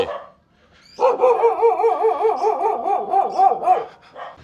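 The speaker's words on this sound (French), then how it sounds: "Oh là là, t'as tous les chiens du coin ici" A dog barks and yips in a rapid, wavering run of close, loud barks that lasts several seconds, with a short bark after.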